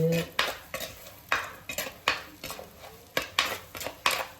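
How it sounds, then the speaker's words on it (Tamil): A spoon stirs fennel seeds and spices in hot oil in a pan while cooking quail egg gravy, giving repeated sharp metallic scrapes and clinks against the pan in an uneven rhythm, close and clear. "இந்த சோம்பு இதெல்லாம் இப்போ இந்த எண்ணெயிலே போட்டுருவோம் போட்டுட்டு இப்படி கிண்டிட்டு"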